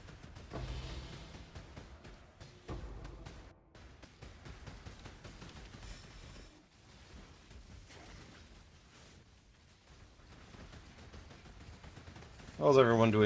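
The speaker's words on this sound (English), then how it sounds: "So I added explosions to my build." Rapid bursts of explosions and gunfire-like blasts from a Kinetic Warden Blaster build in Path of Exile pop irregularly, fairly soft and layered with game effects.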